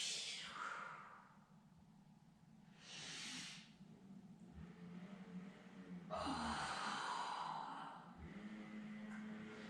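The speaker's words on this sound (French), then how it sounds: "N'ayez pas peur de vous entendre expirer et inspirer." Slow, audible exhalations during a Pilates exercise, soft breathy whooshes that come and go in a few long breaths over a quiet room.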